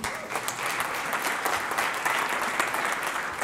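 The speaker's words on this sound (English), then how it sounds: "you can clap for that, absolutely" Audience applause at a corporate presentation, a dense steady burst of many hands clapping, loud and continuous for a few seconds with no voices over it.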